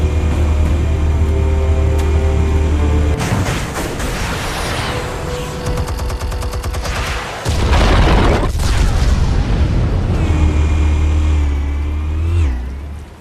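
Explosives detonate in the Batman: The Telltale Series video game, with loud booming blasts and rumbling low-end bursts under game music, a heavy rush of noise midway and a sweeping tail near the end.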